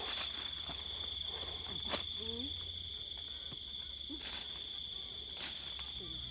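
Crickets chirp in a constant high-pitched drone in a rice field at night, joined by scattered short calls from small frogs and toads, steady and moderately loud with no talking.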